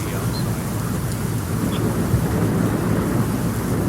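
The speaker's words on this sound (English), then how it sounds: "Still raining like crazy outside" Rain and thunderstorm ambience, a dense steady hiss of rainfall with a low rolling rumble of thunder underneath, loud and constant.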